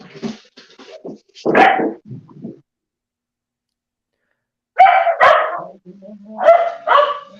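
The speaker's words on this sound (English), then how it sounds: "There must have been a squirrel, so the dogs went barking on me" Several dogs bark in sharp bursts, a cluster early on, then a pause of silence before another round of loud, close barking.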